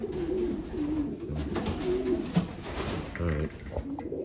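Pigeons coo and scuffle at close range through a steady run of throaty calls and wing flutters while pairing for breeding, with someone speaking briefly over them.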